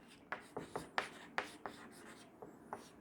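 Pen or chalk writing notes during a biology lesson, a steady series of short scratchy strokes and taps, close and fairly faint, with an irregular rhythm of about a dozen marks.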